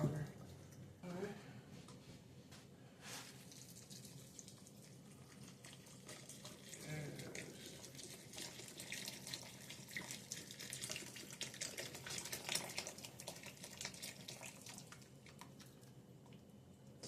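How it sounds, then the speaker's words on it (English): Tap water runs steadily into a boxed carton of chicken stock in a home kitchen, a soft continuous rush and splash with occasional squishy handling noises, talk heard faintly alongside. "I'm going to fill this box up with water"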